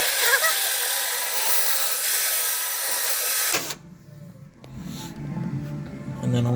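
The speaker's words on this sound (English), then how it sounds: "Now I'm just going to get this flappy wheel with a sander and the drill" A loud, steady abrasive whir of a flap wheel sanding on a drill runs for several seconds, then cuts off, leaving quieter handling noises.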